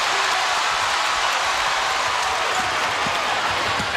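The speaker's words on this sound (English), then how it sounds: "Here comes the crowd in Chapel Hill." A basketball crowd roars in the arena at Chapel Hill, a dense, loud, steady wash of cheering and noise that holds at full volume without a break.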